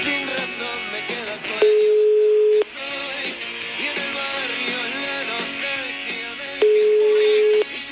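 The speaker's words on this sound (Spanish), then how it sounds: "Está sonando el teléfono." Ringback tone of an outgoing telephone call placed during a radio show: two long, steady beeps about five seconds apart, heard over background music.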